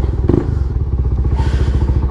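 A motorcycle engine idling close by with a steady rhythmic putter, pulling away from a house before a beach trip, with a brief thump near the start.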